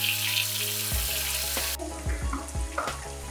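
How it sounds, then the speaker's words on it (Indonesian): Hot oil sizzles and crackles steadily up close as chicken deep-fries over medium heat, with a few clinks and stirring sounds over the constant frying hiss. "Goreng dengan minyak panas dengan menggunakan api sedang hingga ayam garing."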